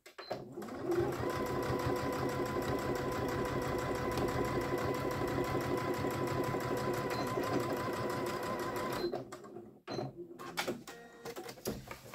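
A domestic sewing machine runs a topstitch seam at a steady, fast rhythmic whir close by for about nine seconds, then stops, with a few handling clicks and rustles after.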